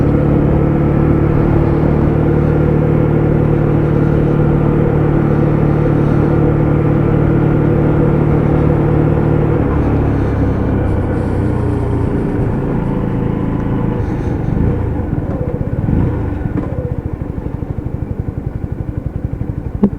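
A Lexmoto ZSB motorcycle engine idles in a loud, steady, close rumble that stays even for about twenty seconds and gets slightly rougher toward the end, with no talk over it.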